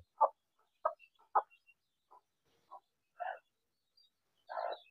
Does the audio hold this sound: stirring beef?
no